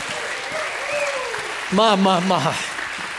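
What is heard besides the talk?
church congregation hand clap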